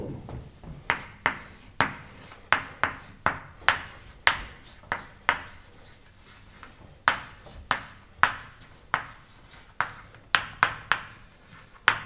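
Marker or chalk strokes on a lecture board during a machine learning class, a run of sharp, separate taps and scrapes in an uneven rhythm, fairly close and alone in a quiet room.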